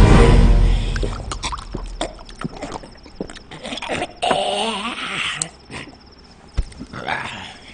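A dog barks and growls at night in a comedy film scene from Chupke Chupke: sharp, irregular yelps and thumps close by over a noisy background.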